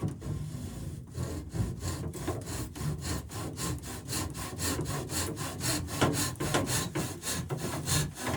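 A hand saw trims glued wooden pieces on a boat's centerboard box, with steady rhythmic rasping strokes, loud and close, repeating back and forth for several seconds without speech.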